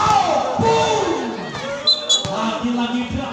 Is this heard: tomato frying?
no